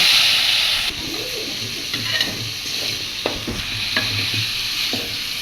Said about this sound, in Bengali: এটা মিষ্টি কুমড়া ভাজাটা হচ্ছে